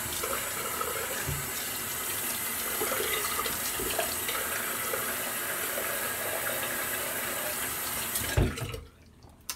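Water runs steadily from a tap into a sink for rinsing after a straight razor shave in a barbershop, a close, constant splashing stream that cuts off near the end.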